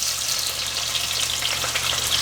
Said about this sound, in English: So we're gonna add the shrimp and the paprika in next